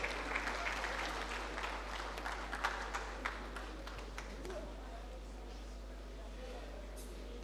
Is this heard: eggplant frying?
no